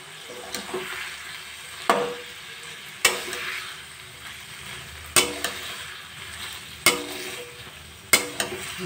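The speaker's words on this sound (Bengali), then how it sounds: "মোচা দিয়ে, আলু দিয়ে, ছোলা দিয়ে ভালো করে এবার কষিয়ে নেব।" Banana flower (mocha) with potatoes and chickpeas stir-fried in a pan, with a steady low sizzle and a sharp scrape of the spatula about once every second or two, close and with no talk.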